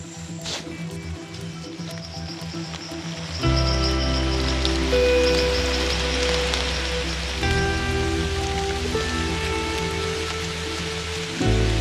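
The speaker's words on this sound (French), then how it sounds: "Il commence à pleuvoir sérieusement." Heavy rain pours steadily in a forest, a dense, loud hiss of drops striking leaves and surfaces that grows stronger partway through and runs without pause.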